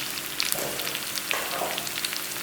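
Finely chopped lemon pickle tipped into sizzling tadka for moong daal, a loud close hiss and spatter running throughout with small crackling pops; no talk.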